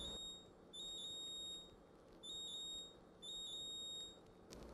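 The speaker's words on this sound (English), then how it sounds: "If your fridge beeps after dispensing water and this indicator light is flashing" A Whirlpool refrigerator sounds its water filter alert: three pairs of quick, high-pitched electronic beeps at an even rhythm, fairly faint against a quiet kitchen background.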